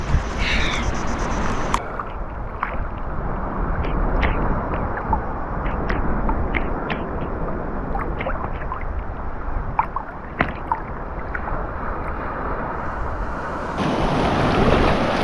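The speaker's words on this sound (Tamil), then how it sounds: "அமைதியான அழகான கடல், குளிக்கிறதுக்கு சூப்பரான கடலுங்க." Calm sea washes gently onto a Borneo beach in Malaysia, a steady soft rush of water with light wind buffeting the microphone and scattered small splashes throughout.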